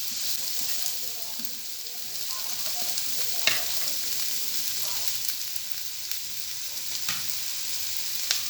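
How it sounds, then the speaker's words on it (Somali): Chopped carrots frying in a pan as they are stirred, with a steady close sizzle and occasional scraping clicks from the stirring utensil throughout. "haddana waxaan ku darsanayaa xabadii oo karootada ahayd aan soo jarjaray aan yara walaaqayaa"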